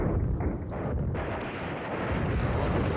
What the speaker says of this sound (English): So let me just call down some artillery.